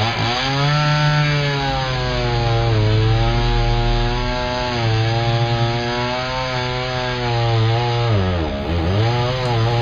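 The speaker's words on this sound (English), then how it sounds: "But even in Streamside Walk the chainsaws have been active." Chainsaw cutting into a tree along a streamside walk, a loud, close, continuous engine drone whose pitch sags and rises as the blade bites into the wood, with no talk over it.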